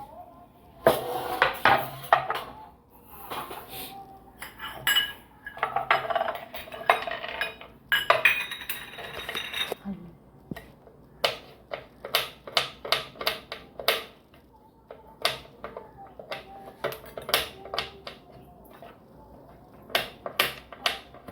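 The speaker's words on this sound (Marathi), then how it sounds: "तोपर्यंत आपण बदाम काजू कापून घेऊ।" Almonds and cashews are chopped for carrot halwa, giving sharp knife clicks and taps on a board in irregular bursts, with a cluster of rapid strokes early on and quicker spaced chops later, close and clear.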